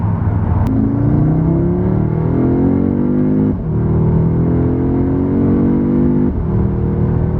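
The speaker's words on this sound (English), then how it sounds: "hopefully you'd have picked up the exhaust note from the outside as well" A 2021 Audi S3 exhaust note heard close and loud as the engine revs, climbing in pitch through repeated rises with two brief breaks between pulls.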